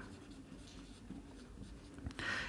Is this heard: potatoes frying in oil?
no